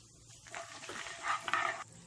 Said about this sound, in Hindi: फ्लेम बंद करके इसमें थोड़े से करी पत्ता यानी करिएपन डाल दें